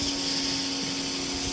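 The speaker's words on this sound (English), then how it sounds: "with the soaker on the pressure cleaner" Pressure washer fitted with a soaker attachment sprays a steady, close, continuous hiss of water with a constant pump hum underneath, no talk.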